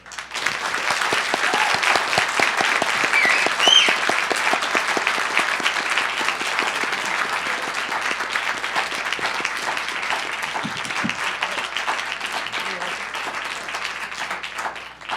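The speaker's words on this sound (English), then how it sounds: "let's have another round of applause for our panel" An audience at an evening symposium gives a panel a sustained round of applause: dense, even clapping from many hands that holds steady for about fifteen seconds before tapering off.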